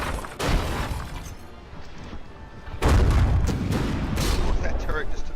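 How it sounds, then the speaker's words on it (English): In the naval combat game From the Depths, a frigate's secondary guns fire on an enemy ship and strike its turret: two heavy, booming explosive impacts, the second louder and rumbling longer, with crackling debris between them. "That turret just took a shot straight to the face from the Frigate's secondaries there."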